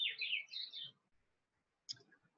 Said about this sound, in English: And then there's this little like buzzy trill that they do as well here in this third song.